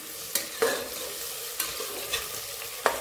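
Three chopped onions stirred as they fry in a pan, with a spoon scraping and tapping in short strokes every second or so over a soft, steady sizzle.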